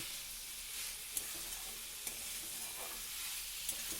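Bitter greens stir-fried with fried eggplant in a pan make a soft, steady sizzle and hiss, broken by a few faint clicks from the utensil.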